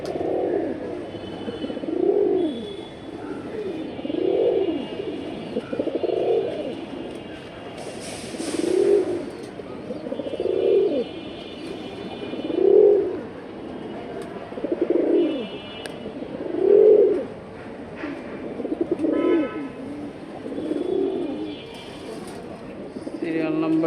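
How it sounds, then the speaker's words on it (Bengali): Pair of Afsan Baga pigeons cooing nearby, about ten rhythmic, swelling low coos spaced roughly two seconds apart over a quiet background. "একেবারে ফুল আফসান বাগা কবুতর পেয়ারটা"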